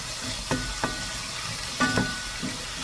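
Onions sautéing in a pan for a vegetable curry: a quiet, steady sizzle with a few sharp clicks of stirring spaced through it, close and alone with no talk.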